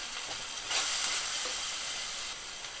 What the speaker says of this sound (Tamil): நாலு பல் பூண்டை இடித்து சேர்த்துக்கலாம்